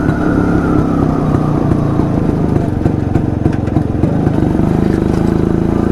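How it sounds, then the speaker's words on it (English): An old Jawa Yezdi D250 Classic two-stroke motorcycle engine runs steadily and loudly up close, a buzzy, rattling idle with a slight rev change partway through. "Anyone who likes 2-stroke motorcycles would love the sound of this motorcycle."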